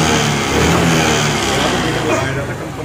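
A Honda Activa 125cc scooter engine runs and vibrates with a loud, continuous close-up drone, while someone talks over it.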